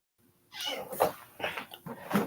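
A kitten meows several times in a row, close and fairly loud, with short drawn-out cries separated by brief pauses after a moment of near silence.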